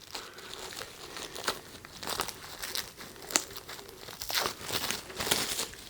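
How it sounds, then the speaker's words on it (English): Cellophane wrapper peeled off a cast iron seasoning stick, close-up crinkling and crackling in irregular bursts with short tearing rustles, no talking. "Now it's wrapped in a cellophane wrapper, and you do want to remove that."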